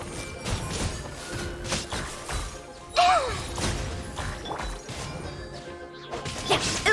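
A sharp magical shattering crash from an illusion shattering in Genshin Impact bursts out midway, with a bright whooshing sweep, set among other game effects and muffled hits.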